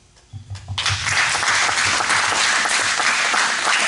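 Chapel audience breaking into loud applause for student leaders, starting with a few scattered claps that quickly swell into sustained, full clapping filling the room.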